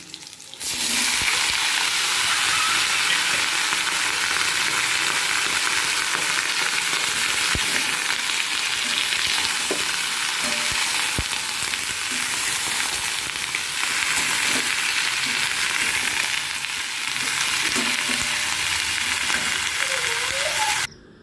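Food frying in a pan gives a loud, dense, unbroken sizzle that runs evenly for about twenty seconds, with faint clicks of stirring beneath it and no talking.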